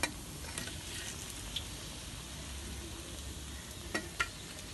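Breadcrumb-coated fried parcha sizzling steadily in hot oil, a quiet continuous crackle with a few sharper pops and ticks near the end, heard alone without talk.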